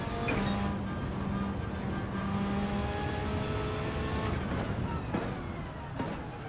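A Group B rally car engine in Gran Turismo 7 drones steadily with harmonic whine, holding a constant loud roar through most of the run before shifting pitch near the end, with no talk.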